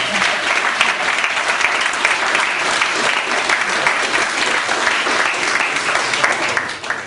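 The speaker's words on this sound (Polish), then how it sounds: "Brawa." Student audience at a school youth-wing political debate applauding, loud dense clapping that holds steady for several seconds.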